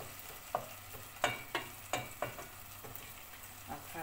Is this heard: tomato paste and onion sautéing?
yes